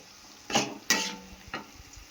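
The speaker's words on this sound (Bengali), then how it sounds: "এবার বেশ খানিক্ষণ কষাবো" Chili, coriander and cumin powder sauté in a pan with a soft background sizzle, broken by three scraping stirs of a utensil against the pan, close and fairly quiet.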